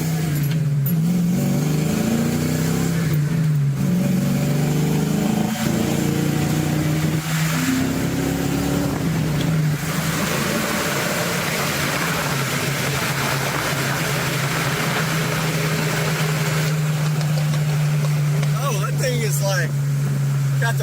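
A BMW with a burble exhaust tune revs and backfires, its low engine drone steady for about twenty seconds and broken by sharp crackling pops. It sounds close, and people talk excitedly over it.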